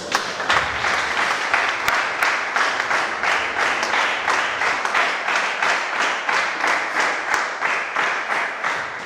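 Rhythmic group clapping from a church congregation welcoming someone, loud and steady with an even beat throughout, close and filling the room.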